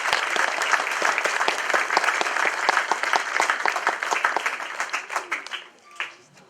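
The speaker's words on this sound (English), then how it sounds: "So can everyone give him a round of applause?" Crowd applause at an All-Ireland minor homecoming event in 2014, dense sustained clapping from a gathered audience that thins out and fades toward the end, with a few scattered final claps.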